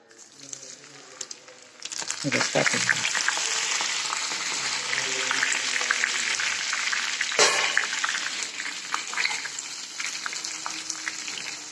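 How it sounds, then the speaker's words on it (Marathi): Corn snack fries in hot oil over a low gas flame, a continuous crackling sizzle that starts abruptly after a quiet moment and carries on while someone talks. "हिशोबातच तळायचे आणि बारीक गॅसवर तळायचे"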